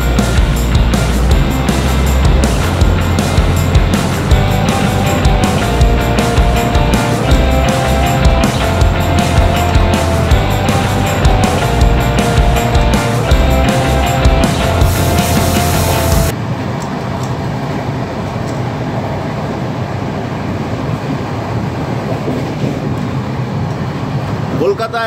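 A fast passenger train on the Howrah to Raipur route makes a steady, loud rolling rumble. Music-like tones sit over the noise for the first two-thirds, and the second part is a plainer, slightly quieter rushing roar.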